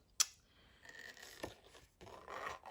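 A sharp snip rings out near the start, followed by soft paper rustling and scraping, then a couple more quieter cutting sounds.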